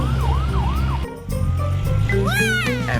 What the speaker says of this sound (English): White. White ambulance.